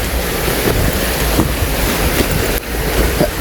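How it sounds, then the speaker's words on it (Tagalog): Water rushes hard down from a mountain dam on farmland, a loud, continuous roar mixed with gusty wind buffeting the microphone, with no speech. "Grabe yung tubig, oh."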